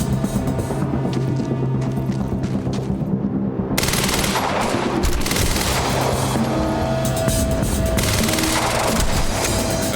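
Sniper rifles and guns fire relentlessly during a firefight in the video game Quantum Break: dense, loud, overlapping shots with a short dip before the barrage swells again.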